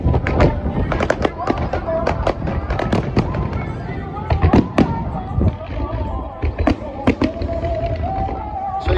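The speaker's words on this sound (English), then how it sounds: "we are watching the fireworks." Rapid bursts of fireworks over Blackpool crackle and bang irregularly throughout, with sharp pops and booms layered over a steady background of crowd murmur.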